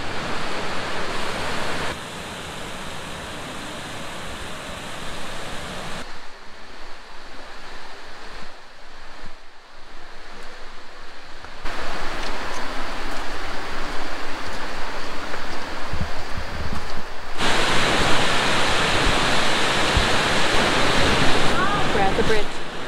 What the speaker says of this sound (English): The waterfalls. You know how she loves falling water.